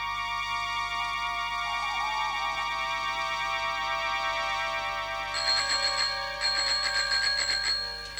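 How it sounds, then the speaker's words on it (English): A bicycle bell rings in quick repeated bursts in a radio drama, bright metallic trills close by, starting partway through after a steady hum of background noise. "For heaven's sake, Alison, stop ringing your bell."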